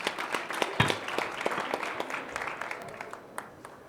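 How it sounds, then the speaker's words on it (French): An audience at the Mobility Awards 2021 ceremony breaks into scattered applause, individual claps audible at moderate distance, tapering off over a few seconds. "je pense qu'on peut l'applaudir. Bravo."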